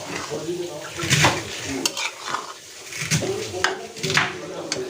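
Noodles with plenty of cabbage cooking in a pan, the spatula scraping and clattering against the metal repeatedly over a light sizzle, with faint talk in the background.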